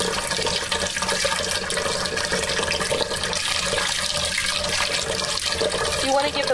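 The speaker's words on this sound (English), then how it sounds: "I'm going to fill the pot about 2/3 of the way with water" Tap water gushes steadily into a cooking pot being filled for barley, a loud, close, continuous rushing splash that holds at an even level for several seconds.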